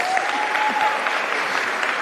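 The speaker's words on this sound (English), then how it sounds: "Let's give them another big warm round of applause." An audience at a sport awards ceremony claps in steady, dense applause throughout, moderately loud and unbroken, with a brief whistle near the start.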